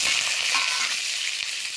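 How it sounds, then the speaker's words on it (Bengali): Potatoes fry in hot mustard oil in a heated wok, giving a dense, steady hiss of close sizzling with no pauses. "আমি প্রথমে চিকেনের আলুগুলো ভেজে নেব।"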